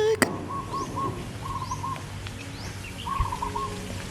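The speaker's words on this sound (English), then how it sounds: "Oh, the pigeons?" Pigeons at a temple in Lamphun, Thailand, give soft repeated coos and chirps, with a brief flap of wings, set against a quiet outdoor ambience.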